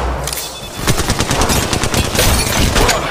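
Rapid automatic gunfire in the Apex Legends Mobile video game, loud sustained bursts of close shots rattling for several seconds with no talk over it.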